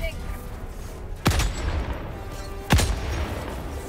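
Two heavy sniper rifle shots from the video game Helldivers 2 ring out about a second and a half apart, each a sharp boom with a short rumbling tail over quiet game ambience.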